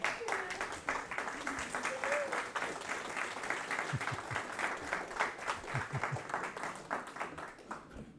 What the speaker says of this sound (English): I would like for your sisters to stand up and we can applaud all of you for that.